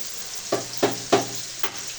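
Onion frying with salt in a pan: a steady close sizzle broken by four sharp stirring scrapes at uneven intervals.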